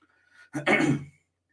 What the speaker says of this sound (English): I'll just clear my throat here in a second.